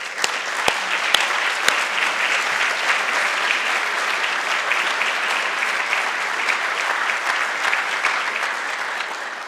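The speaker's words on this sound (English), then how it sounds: "I think we should applaud you" Audience applause for the chair of Belfast City of Sanctuary, a dense, steady clapping that fills the room at even loudness from start to finish, with a few sharper individual claps standing out near the beginning.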